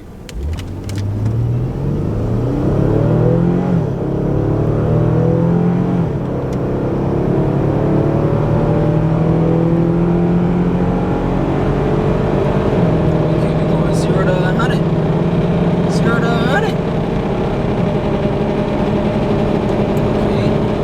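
A modded Jeep SRT accelerates hard from 0 to 60 mph at night, its engine note climbing steadily through the gears, loud and close from inside the cabin, with brief higher-pitched whines late in the run.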